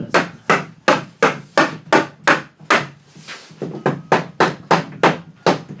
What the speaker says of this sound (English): when you have a hammer tacker, it's easy not to get lazy because you just keep firing away